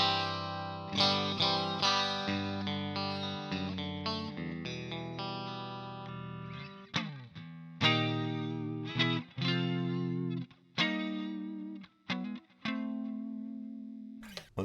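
Clean electric guitar through a Fractal FM3 with delay and reverb in parallel, chords and single notes ringing out with trailing echoes and a wash of ambience, phrases separated by brief stops, no talking.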